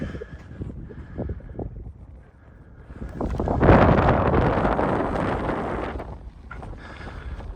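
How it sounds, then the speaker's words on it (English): Gusty wind roars across the microphone on sand dunes in Idaho, swelling to a loud, rushing blast in the middle before easing back to lighter buffeting. "It's going to be pretty windy up here."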